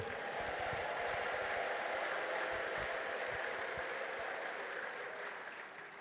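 A church congregation clapping for the Lord, a steady, dense roar of many hands from a large crowd that carries on for several seconds and eases off slightly at the end, with no talking over it.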